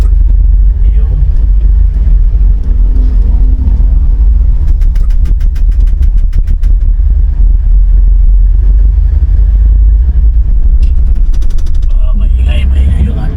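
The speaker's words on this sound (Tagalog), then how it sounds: "Maingay yung ating sasakyan dahil ano to, marami ng mga maluwag na kasukasuan" Rattly, loose-jointed car rumbling along a city street in Cubao, a steady loud low engine drone with clattering and knocking bursts from the worn body as it drives.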